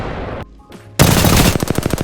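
Gunfire aimed at a deployed generator in Apex Legends, a loud burst of shots followed by a quick, evenly spaced machine-gun rattle after a short lull, close and sharp, with no talk.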